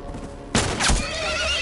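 A horse in the video game The Last of Us lets out a sudden loud whinny amid gunfire, sharp and close, then fades into a lingering game ambience with no speech.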